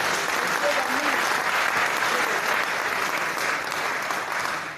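A church congregation applauds steadily for about five seconds, a dense, even wash of clapping from many hands that stays loud throughout and tapers slightly at the end.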